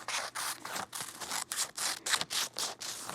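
Scissors cutting fusible applique fabric around an animal shape, a series of soft, close crisp snips and rustles repeating at an uneven quick rhythm, with no talking.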